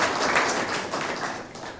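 Sustained applause fills a college hall for top-scoring twelfth-grade students, a dense, loud patter of many hands that fades slightly toward the end.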